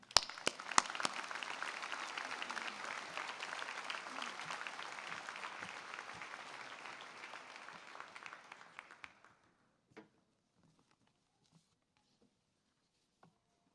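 A graduation ceremony audience applauds a speaker being welcomed to the podium, a dense, steady patter of many hands that lasts about nine seconds before stopping abruptly and leaving near silence with a few faint stray claps.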